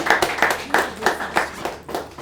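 An audience at a sales training event claps in a regular beat, around seven crisp claps spaced roughly a third of a second apart, close and moderately loud.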